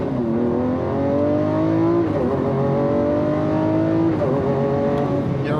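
A single-clutch Lamborghini accelerating hard, its engine loud and close, the revs climbing in repeated rising sweeps with brief dips at each gear change.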